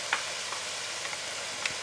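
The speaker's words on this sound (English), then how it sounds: "we will go ahead and add our onions to the pot" Chopped onions sauteing over medium-high heat in rendered lardon fat in a pot, a constant close hissing sizzle with a few faint crackles and pops.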